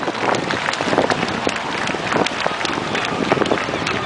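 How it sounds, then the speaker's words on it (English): A crowd gathered at a lifeboat station event applauds the volunteer crew, a steady patter of many hands clapping outdoors with wind noise across the microphone. "yes, big round of applause"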